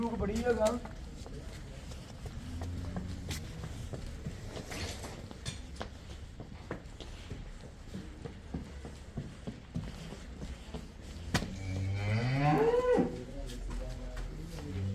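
A large cow lets out a single low moo near the end, amid people talking and scattered farmyard clatter at a cattle sale on a farm.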